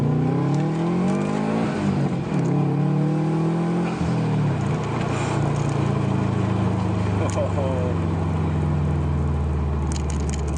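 A turbocharged Subaru engine revs up and down several times, pitch climbing and falling, with a brief whoosh from a Perrin blow-off valve between revs; a voice speaks briefly.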